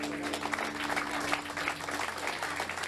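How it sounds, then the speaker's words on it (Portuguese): A congregation claps steadily at a church gathering after a certificate presentation. The applause forms a dense, continuous patter at moderate distance with a faint hum underneath. "Salva de palmas"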